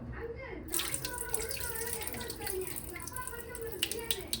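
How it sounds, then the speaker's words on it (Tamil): Quail meat is washed under running tap water, a close, steady stream splashing into a bowl with intermittent sloshing as the pieces are handled, while a person talks over it. "ஸோ இதோட 3rd டைம் நான் வாஷ் பண்ணுறேன்"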